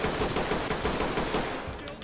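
Rapid automatic gunfire in the tactical shooter Ready Or Not, a dense unbroken burst of loud shots lasting about two seconds in a hospital setting.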